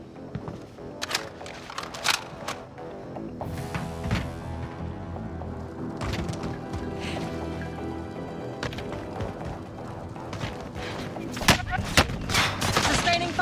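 Gunfire in the video game Call of Duty: Warzone crackles in dense, repeated bursts over a busy game soundscape, with sharp close shots toward the end and players talking underneath.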